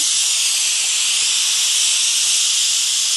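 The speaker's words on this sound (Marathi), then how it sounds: "कुकरच्या 4 शिट्ट्या पण झालेल्या आहेत" A pressure cooker on a gas stove, cooking for Puneri misal, lets off steam in a loud, unbroken close-up hiss with no voices.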